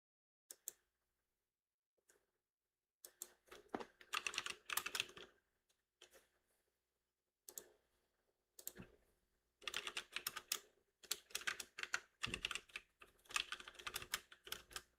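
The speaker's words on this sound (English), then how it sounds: "I know some of you guys don't like to hear the typing" Someone types on a computer keyboard nearby, with quick bursts of key clicks separated by short quiet gaps and growing denser toward the end.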